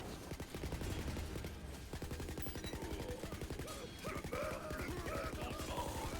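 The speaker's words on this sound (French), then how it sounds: "la machine gun en vrai c'est fort" Rapid machine-gun fire in the fantasy shooter Tiny Tina's Wonderlands, a dense stream of shots running almost continuously, loud and close, with game music and effects layered over the final seconds.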